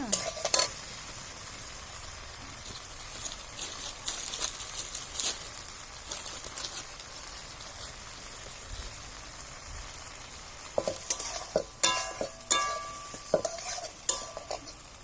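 Ground cumin paste sizzling in a pan for a bhindi bhapa: a continuous fine hiss with scattered spatula taps and scrapes, louder bursts of stirring toward the end, close and without talk.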